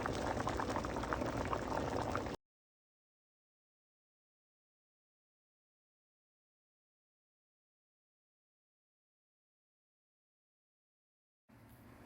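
Rice and pigeon peas bubble gently in a covered pot on very low heat, a steady close simmer for a couple of seconds, then a long silence before the bubbling briefly returns at the end.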